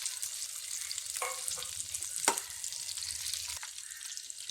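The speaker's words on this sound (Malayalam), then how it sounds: "അതിലേക്കൊരു 3 പച്ചമുളക് അരിഞ്ഞതും കൂടി ഇട്ട് കൊടുക്കാം. ഇതൊന്ന് വാട്ടിയെടുക്കാം." Three chopped green chillies sizzle and crackle steadily in hot oil in a pan for a cauliflower curry, with a soft stirring scrape partway through and no talking.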